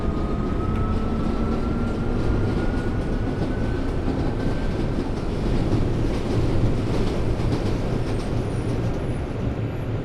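A London Central Line 1992 Stock train in the Open.BVE simulator rumbles steadily along the track, with a faint rising metallic wheel flange squeal over continuous loud rolling noise and no talking.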